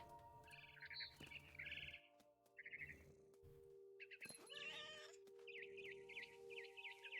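Cat meows and chirps from the player character in the video game What Remains of Edith Finch, several short mewing calls spread across the stretch over a steady low game ambience.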